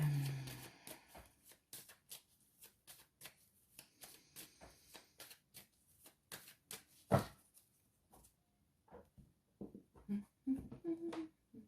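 Light Seers tarot cards being shuffled, producing a steady run of short papery riffles and taps close by, with quieter gaps and a few sharper slaps toward the end.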